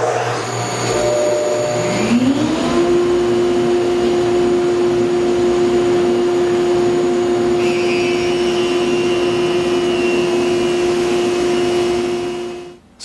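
Hammer A3-41 jointer/planer with a segmented cutter head, spinning up with a rising motor whine and then holding a loud steady drone and high tonal whir as it runs through a wooden board, without talk.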